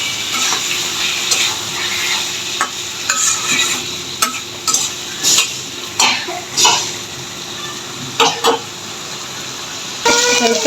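Vegetables and tomato are stirred in a frying pan for a chapila fish curry, with repeated scraping strokes and clatters at an irregular rhythm over a soft background sizzle, close by.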